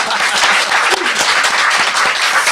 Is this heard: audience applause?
yes